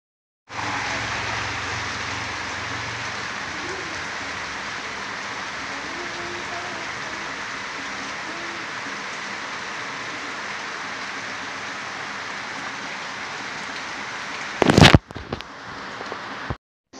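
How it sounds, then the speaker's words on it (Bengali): Steady rain pours down continuously in a broad, even hiss, with a few brief louder rustles and knocks near the end. "আর এদিকে দেখো বৃষ্টি কিন্তু সমানতালে হয়েই যাচ্ছে।"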